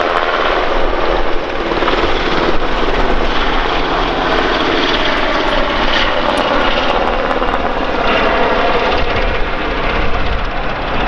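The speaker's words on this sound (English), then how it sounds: "Every time I start a voiceover, the Americans start the helicopter." A helicopter runs continuously near a moored sailboat, a loud, steady engine and rotor roar that fills the whole stretch without any talking.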